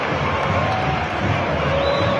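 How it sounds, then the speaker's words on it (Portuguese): A football crowd at a Copa do Brasil match between Vitória and Flamengo fills the air with a steady, dense roar of applause and crowd noise, continuous and loud from start to finish. "A torcida aplaudindo."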